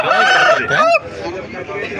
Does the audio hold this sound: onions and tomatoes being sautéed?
no